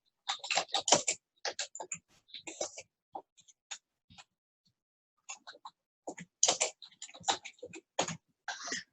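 Fast typing clatters on a computer keyboard in close, crisp bursts of clicks, stopping for a few pauses and then starting again.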